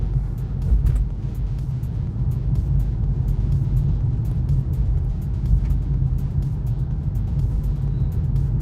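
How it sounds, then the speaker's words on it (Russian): A Honda Shuttle car drives along a narrow road: a steady low engine and road rumble from inside the cabin, with faint intermittent ticks and clicks and no talking. "Машина нормально едет."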